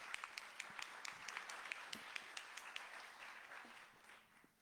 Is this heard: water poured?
no